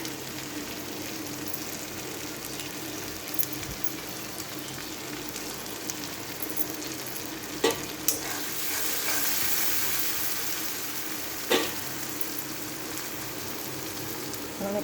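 Onions frying in a pan for egg tarka give a constant soft sizzle with occasional louder crackles and stirring scrapes, building slightly in the middle.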